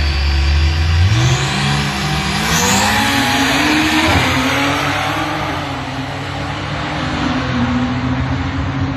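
2020 Toyota Supra drag cars launch down the strip, loud engines revving hard and climbing through gears with rising pitch, a sustained close roar lasting the whole stretch.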